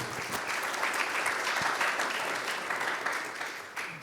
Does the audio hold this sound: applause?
yes